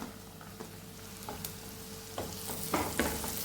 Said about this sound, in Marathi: वाटाण्यालाही 2 मिनिटं आपल्याला परतून घ्यायचं आहे।